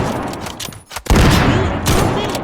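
Gunfire in a Roblox sniper video game, a loud burst of rapid shots, a short gap, then a heavier continuous volley of fire to the end.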